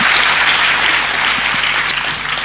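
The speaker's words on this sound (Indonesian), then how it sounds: "Berikan tepuk tangan kita untuk Tuhan kita." A church congregation applauding, a dense, loud wash of many hands clapping steadily and alone throughout.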